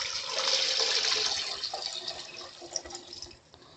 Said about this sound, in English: And I'm going to add the water.